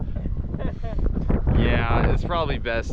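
Wind gusting on a cold, rainy day during a Yellowstone canoe trip, a loud rumbling buffet against the microphone with brief talk over it.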